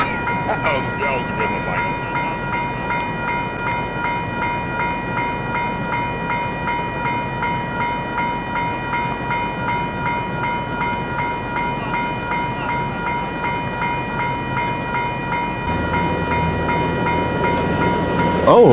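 A maintenance of way train rolls past a railway crossing at Leaside, a steady loud rumble with crossing bell tones ringing throughout and wheels clattering, growing a little heavier near the end.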